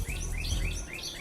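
Several birds chirp and tweet in quick, repeated high calls over a low rumbling background, moderately loud and without talk.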